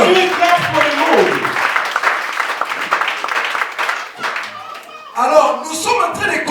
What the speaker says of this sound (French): Give clap for the Lord.